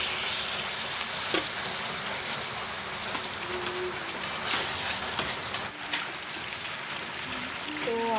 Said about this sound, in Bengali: এবার আমি চিকেনটা দিয়ে দিচ্ছি এর মধ্যে।